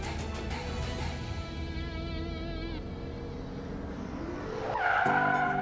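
A car slows with a brief tire squeal and engine whine, then settles and stops as it parks, a swelling engine note closing out the sequence.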